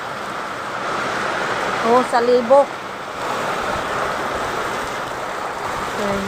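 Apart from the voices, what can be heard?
strong wind with rain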